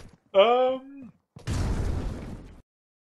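A frag grenade bursts in a video game, a short tonal pop followed by a loud, noisy blast that rumbles for about a second before cutting off, with no talk over it.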